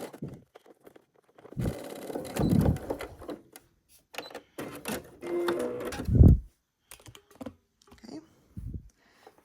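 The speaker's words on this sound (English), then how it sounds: "So now we will just try to sew on this on our sewing machine, making sure to catch only 2 layers." A home sewing machine fitted with a zipper foot stitches through two layers of fabric on a hair scrunchie, running in several close, loud bursts of rapid mechanical chatter separated by short pauses.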